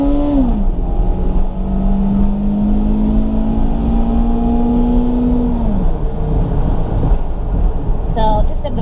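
A 2002 Toyota Celica GTS automatic engine revs steadily and loudly for several seconds, its pitch holding high before dropping off, with a brief higher whine near the end.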